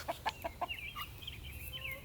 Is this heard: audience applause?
no